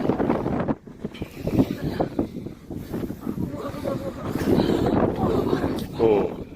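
Strong wind buffets the microphone on a high hilltop in the Valley of Fire, Nevada, rumbling in uneven gusts while people talk throughout.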